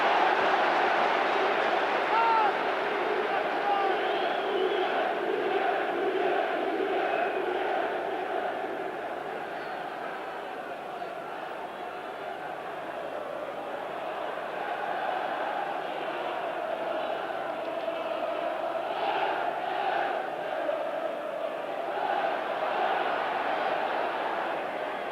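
Football crowd at Highfield Road, Coventry, for a 1990 League Cup semi-final against Nottingham Forest: a steady, dense roar of many voices that dips slightly midway, then swells again with scattered shouts.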